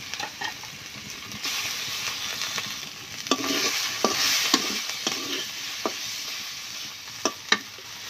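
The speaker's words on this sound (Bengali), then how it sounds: "দেখেন তেল ছাড়া দেওয়া শুরু করে দিচ্ছে, মশলা কষানো হচ্ছে" Spice masala and fried eggs sizzle in hot oil in a pan, a steady frying hiss broken by sharp scrapes and taps of a spoon stirring, with no talk.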